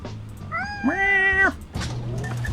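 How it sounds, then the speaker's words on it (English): A cat in the horror video game Order 13 gives a single drawn-out meow, clear and fairly close, over a quiet low ambient hum. "I'll feed the cat if I have to."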